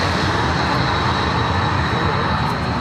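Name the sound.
Cold War jet aircraft at airshow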